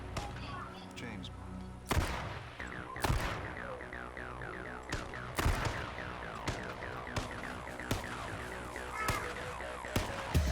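Gunshots in the online shooter H1Z1, several sharp reports spaced a second or two apart over busy game sound, with people talking throughout.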